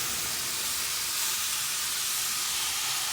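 Onion and tomato paste hits a hot pan for a field bean and dried kingfish curry, giving a steady, close, loud hiss of sizzling and steam that holds through the whole moment with no voices.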